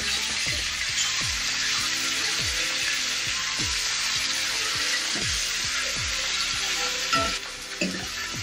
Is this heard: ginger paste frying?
yes